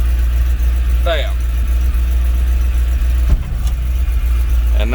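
An old Ford F-Series dump truck idles steadily with its PTO engaged while the bed lowers under gravity, a constant low engine rumble running throughout with a brief clunk partway through and short bursts of voice over it.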